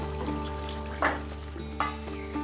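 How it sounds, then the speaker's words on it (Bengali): Rohu fish curry gravy being stirred after garam masala paste goes in, giving a steady close sizzle with a few louder scrapes and stirs of the spoon through the thick gravy. "গরম মশলা বাটা দিয়ে সুন্দর করে নেড়ে মিক্স"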